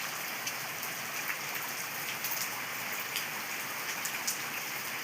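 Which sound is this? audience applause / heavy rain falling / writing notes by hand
heavy rain falling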